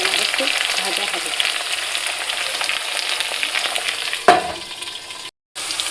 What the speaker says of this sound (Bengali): আলু ভাজা হয়ে যাক খুব ভালোভাবে, খুব সুন্দরভাবে আলুটা ভাজা হবে